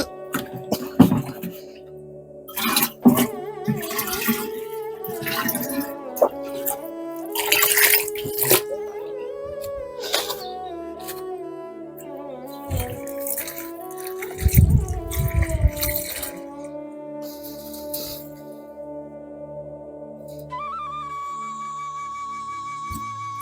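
Water poured from a container onto young bitter melon plants in a garden, irregular splashing and trickling bursts across the clip, with a voice talking in between and a brief tonal sound near the end.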